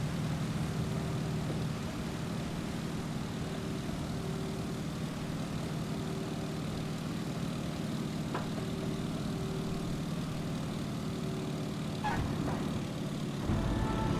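A propeller airplane's engine drones steadily during a landing in Microsoft Flight, a continuous low hum with a few faint clicks and a brief swell near the end, with no voices.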